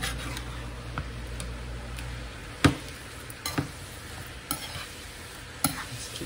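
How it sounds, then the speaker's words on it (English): Garlic shrimp being stirred in a sizzling pan, with a steady frying hiss and a few sharp utensil scrapes and clicks against the pan, close and alone. "Gonna stir it around. Get all that flavoring throughout the shrimps."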